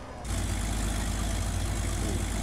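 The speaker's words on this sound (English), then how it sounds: "So, turn on the engine, I do believe it gets started at the front here." A half-track's engine in a restoration video game starts up and settles into a loud, rumbling, heavy run, continuous and close.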